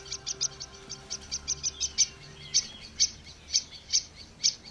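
Birds give alarm calls at night with a tawny owl nearby: a run of sharp, high chirps repeated every half second or so, fairly close and clear over a quiet low hum.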